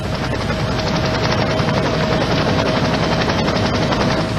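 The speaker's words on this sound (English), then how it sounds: "transported by Air Life helicopter to Porter Memorial Hospital in a coma" An Air Life air ambulance helicopter flying, its rotor beating in a dense, loud, rapid chop that holds steady and close for the whole few seconds, with no talking.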